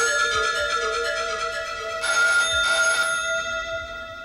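A telephone rings several times in a row, clear and steady, with a quiet room behind it and no one speaking.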